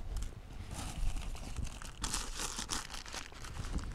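Plastic waste packaging crinkles and crackles steadily while being sorted for recycling, a dense close rustle that grows louder and busier midway through.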